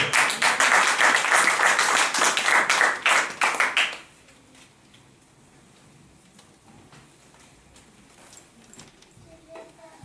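A church congregation breaks into loud applause, a dense burst of many hands clapping for about four seconds, then it cuts off to a quiet room with faint scattered noises.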